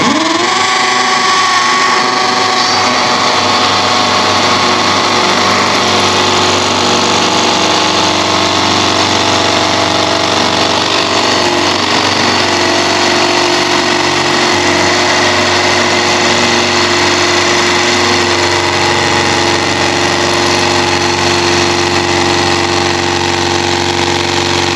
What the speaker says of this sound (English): it's time to drill out for your brackets now